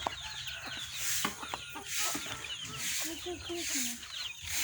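Chickens cluck repeatedly around a rural village yard where elephants are kept, short clucks scattered over a steady noisy background throughout, with faint voices mixed in.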